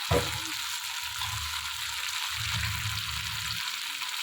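Dried fish, eggplant and potato sauté in a pan for a Tamil karuvadu kuzhambu. A soft, continuous sizzle runs throughout, with low rumbling bursts from the pan in two stretches.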